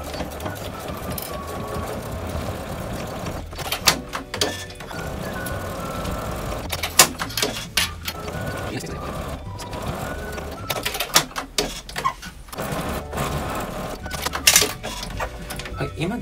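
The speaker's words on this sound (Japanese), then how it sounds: "では縫っていきますね。" A sewing machine stitching a 1 cm seam on a felt box pouch, running in bursts of rapid mechanical whirring and clatter, broken by short pauses and handling clicks, close and fairly loud.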